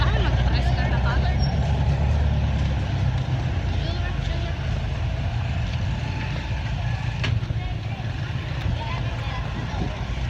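A motorized tricycle ride in the Philippines fills the air with a steady, close engine rumble and road noise that runs unbroken for ten seconds. Voices can be heard faintly under the din.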